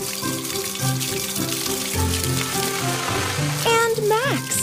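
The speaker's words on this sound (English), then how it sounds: "Fire engine's washing Mimi and Boo" A toy fire engine sprays water to wash the cars, a steady hiss of water running beneath loud cheerful music and a speaking voice.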